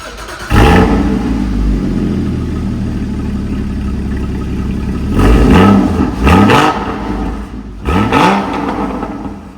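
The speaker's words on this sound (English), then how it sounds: "just want to give you a nice cold start sound with the baffles open" A 2016 Porsche Cayman GT4 cold-starts with its exhaust baffles open, giving a loud rev flare that settles into a steady idle. Two more sharp revs follow later, each rising and falling.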